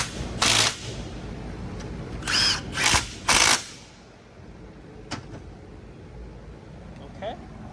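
A power tool tightens bolts on a 2018 Chevrolet Camaro transmission during a rebuild, firing four short, loud whirring bursts in the first half. It then falls to quiet shop background with faint knocks.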